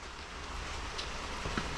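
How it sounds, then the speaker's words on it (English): Steady rain falling outdoors in the desert, a constant, even hiss of drops with no letup and a faint patter, moderately quiet and without talk. "it's raining outside"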